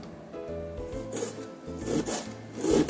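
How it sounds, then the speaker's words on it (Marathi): A knife finely chopping onions on a board, heard up close as repeated rasping, scraping cuts in an uneven rhythm that grow louder toward the end, with no voices. "कांदा असा छान बारीक करून कापून घेऊ आपण"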